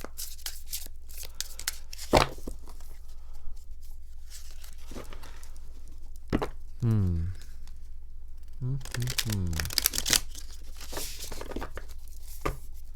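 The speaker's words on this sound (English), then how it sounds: "I want to shuffle 2 more times." A tarot card deck is shuffled in a few brief bursts, with quick papery riffles and flicks separated by quiet pauses, close to the microphone.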